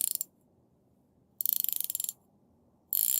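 A cheap Aldi ratchet clicks in three short bursts of rapid, crisp pawl ticks separated by silence, close and clear.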